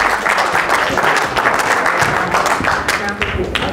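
Audience applause at a motivational speaking event as a volunteer is called up on stage, steady dense clapping filling the room at close range, with a voice or two faintly mixed in.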